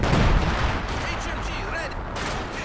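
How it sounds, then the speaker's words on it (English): Artillery shells land in a Company of Heroes 2 battle on the Leningrad front, a dense continuous roar of blasts and rumbling fire lasting the whole moment, loud and close, with game voice lines mixed in. "Incoming rounds!"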